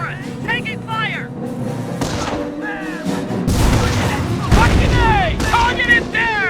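Gunfire and explosions in the World War II strategy game Company of Heroes, Carentan mission, with heavy booms and bursts of shots building through the middle under game voices, busy and loud throughout.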